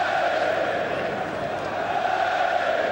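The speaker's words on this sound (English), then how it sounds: "fans applauding every touch of the ball by Sunderland. And consequently booing their own players" A large football stadium crowd at Arsenal murmurs and roars as a steady, distant wash of noise, with applause and booing blending into one continuous hum throughout.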